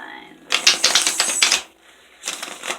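Tarot cards being shuffled by hand, two bursts of crisp riffling and clicking, a longer one followed by a short pause and then a shorter one, close and fairly loud.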